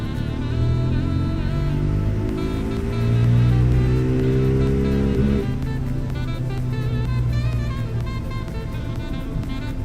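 Motorcycle engine revving on a dyno under load, its pitch climbing steadily through a long pull before dropping back and settling into a loud, rough drone, close and continuous with no voices.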